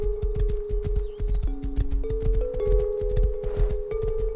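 Hooves of a ridden horse in Rust: steady, rhythmic clip-clop at a brisk pace, close and clear, with a few faint tonal game sounds behind it and no talk.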